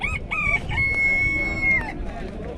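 A rooster crows at a chicken and pigeon market in Ganja, one loud, drawn-out cock-a-doodle-doo near by over a steady bed of market noise and faint background voices.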